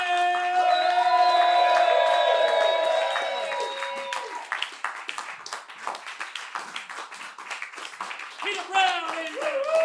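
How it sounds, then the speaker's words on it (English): A live late-show audience claps and whoops for a first-time stand-up comedian. A sung or played tonal intro fades out, then a crowd of loud, close, scattered claps and cheers follows, swelling again near the end. "Give the round of applause now, very first time ever on stage"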